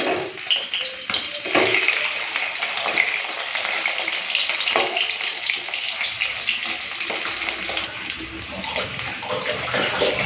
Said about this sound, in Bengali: আর একটুখানি তেল দিয়েছি এখন ভাজাটা করে নিই